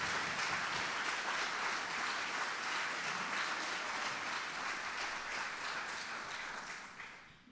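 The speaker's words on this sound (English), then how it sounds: "I want y'all to give Brianna a round of applause for the confidence that she has" Audience applause at a youth homelessness policy breakfast, a dense steady clapping from a roomful of people that holds evenly and then fades at the end.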